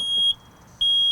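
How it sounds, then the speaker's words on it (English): A working household smoke alarm, a combined smoke and carbon monoxide unit, sounds a test: loud, piercing high-pitched electronic beeps, one cut off and another starting after a short gap, with no voices. "That's the sound of a working smoke alarm."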